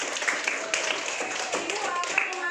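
Classroom students briefly clap for a classmate in an Indonesian lesson about planets, a short light patter of hands heard under a teacher's voice and chatter.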